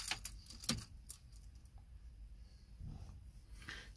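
Car keys jangle and click at the ignition as the engine is switched off, a few close metallic rattles early on followed by quieter handling, faint and without speech.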